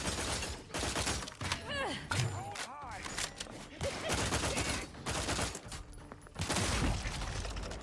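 The Fortificator gun in The Outer Worlds 2 fires in loud rapid volleys of blasts and mechanical clatter, bursts recurring across the stretch with brief pauses between them.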